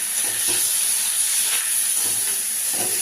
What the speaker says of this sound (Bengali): এই যে মাছগুলো এখন ভেজে নিচ্ছি, মাথাগুলোকে।